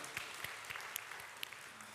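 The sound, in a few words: congregation applause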